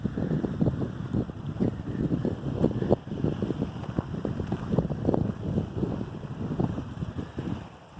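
Wind buffets the microphone on a boat trip on Lake Havasu, gusting and flapping in uneven bursts over a low rumble of water and hull, fairly loud and continuous with no voices.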